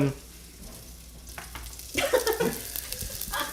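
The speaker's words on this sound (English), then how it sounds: "Hopefully, you can hear the sizzles." Food sizzles and crackles in a hot pan, growing louder partway through with scraping and stirring noises, close and busy.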